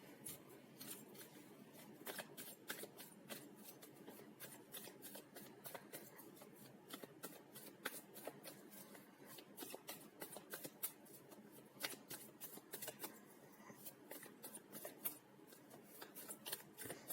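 Tarot cards are shuffled continuously by hand, a close, steady flutter of rapid riffling clicks that runs throughout with no talking.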